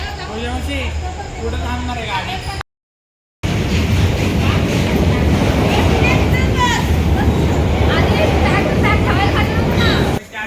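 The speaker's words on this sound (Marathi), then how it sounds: "आता ट्रेन आली" A Lonavala-to-Hubli train rumbles steadily into a station with a loud, continuous roar, briefly cut off, while people's voices carry faintly underneath.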